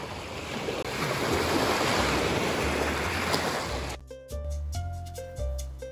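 Waves washing in at a lake beach at Lake Cumberland State Resort, a steady broad wash of surf and wind noise close to the microphone for several seconds, then cut off by other sound near the end.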